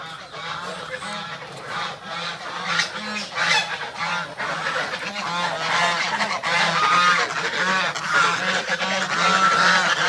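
Ducks in a guava orchard call over and over in a steady run of honking quacks, close and fairly loud, growing busier toward the end.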